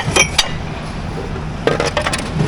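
Ceramic plates and dishes clink and clatter as they are handled at a dumpster at night, with two short bright bursts of knocking separated by a quieter stretch of low background noise.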